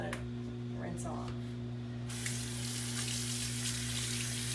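Water runs steadily from a tap into a sink while a face mask is rinsed off, a continuous hiss-and-splash that grows louder partway through, with a low electrical hum underneath.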